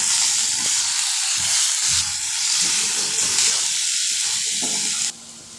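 Fish pieces fry loudly in hot oil in a wok, giving a dense, steady sizzle with faint stirring clatter underneath, close up and without talk, then the sound drops off abruptly near the end.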